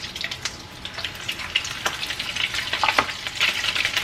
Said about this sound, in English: put them in our pan with hot oil